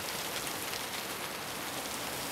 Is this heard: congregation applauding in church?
no